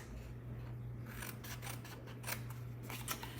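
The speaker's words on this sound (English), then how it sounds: "we're going to cut off the 1/2 inch piece" Scissors cutting through paper for a mini bundt cake treat box, a quick series of close snipping and slicing strokes over a steady low hum, no voices.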